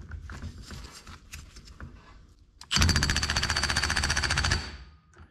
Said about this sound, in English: So I've got my impact wrench on its lowest setting.